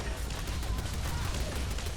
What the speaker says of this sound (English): But who's shooting us?